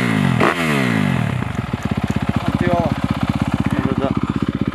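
A motocross motorcycle accelerates out of a turn on a dirt track, its engine rising loud and close with a rapid rhythmic revving pulse after a brief clattering burst near the start.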